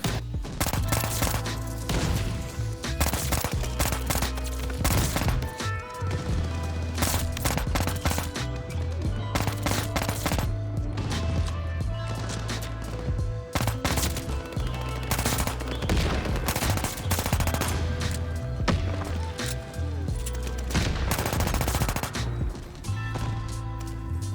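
Rapid bursts of automatic pistol fire in Call of Duty Vanguard, loud and nearly continuous, with sharp repeated shots and impacts layered over steady game background noise.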